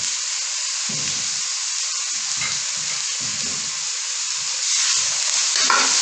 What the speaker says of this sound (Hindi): ये देखिए मसाला हमारा अच्छे से भुन चुका है, तैयार हो चुका है।